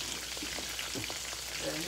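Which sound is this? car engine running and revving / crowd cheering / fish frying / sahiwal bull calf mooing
fish frying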